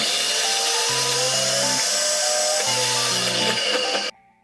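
An electric mixer grinder blends mustard, cashew and coconut into a paste for Bengali steamed hilsa, giving a loud, steady whirring grind with a pulsing motor hum that runs for about four seconds, then cuts off abruptly.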